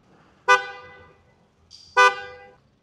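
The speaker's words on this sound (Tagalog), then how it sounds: "Super bass horn." Two loud, deep-toned blasts from an aftermarket super bass car horn fitted to a 2025 Toyota Raize, each lasting about half a second, sounded alone and close with a brief pause between them.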